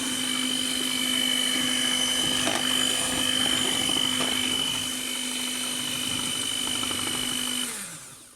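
An electric mixer whirs at a steady, high-pitched whine while beating orange juice cake batter, running continuously and close before winding down and stopping near the end.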